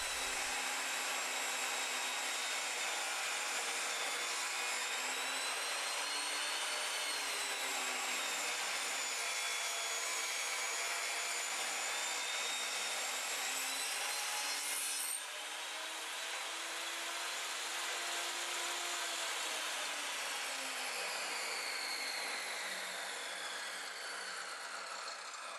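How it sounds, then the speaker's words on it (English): Table saw making a test cut in wood with no dust collection, a loud continuous whine of the blade and motor running steadily, the pitch shifting slightly midway as the cut proceeds, with no talking. "here's a test cut without using any dust collection"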